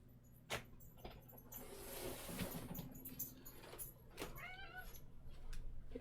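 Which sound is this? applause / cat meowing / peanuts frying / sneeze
cat meowing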